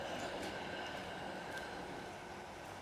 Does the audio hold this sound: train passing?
yes